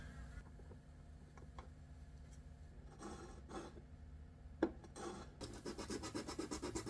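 A cutting tool scrapes close to the varnished surface of a new violin, producing faint, steady scratching strokes that grow quicker and more rhythmic toward the end, with one brief louder knock midway.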